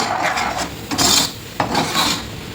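A spoon scrapes and rasps against a pan while ground mustard and fenugreek are stirred into thick tomato thokku, short close scraping strokes with no voices.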